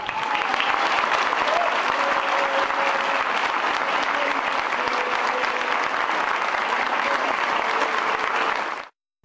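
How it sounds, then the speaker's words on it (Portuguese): Sustained, dense applause from football fans at a São Paulo state match fills the stands for a minute of clapping, loud and steady throughout before cutting off abruptly near the end. "promoveram 1 minuto de palmas, 1 minuto de aplausos"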